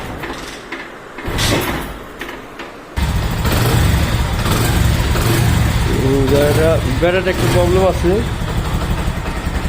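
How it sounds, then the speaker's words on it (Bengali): A used car with a weak battery starts up, and its engine then settles into a loud, steady running drone that continues to the end, with someone talking over it. "ইঞ্জিনের সাউন্ডটা একদম নিখুঁত আছে।"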